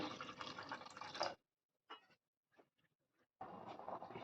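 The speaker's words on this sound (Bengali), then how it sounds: "আর তিন কাপ দিয়ে দিচ্ছি গরম জল" Hot water is poured into a cooking pot for chicken tehari, loud gushing in two long pours separated by a quiet gap holding a few faint drips and splashes.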